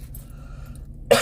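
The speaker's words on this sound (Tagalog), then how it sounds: "Oh, may ubo." A person gives a single sharp, loud cough near the end, after a stretch of quiet low background hum, in a Filipino home setting.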